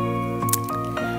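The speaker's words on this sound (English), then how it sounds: "I think it's safe to water this now." Water is poured onto a potted Parodia leninghausii golden ball cactus, giving soft squishing and dripping bursts over a steady tonal background hum.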